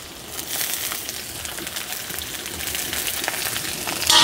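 Carrot, capsicum and cabbage stir-frying in a pan with green chillies, giving a steady broadband sizzle and crackle, fairly soft and even throughout with no talking.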